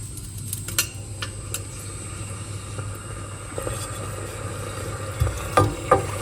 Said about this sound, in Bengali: হালকা করে এখন গরম মশলাগুলোকে ভেজে নিচ্ছি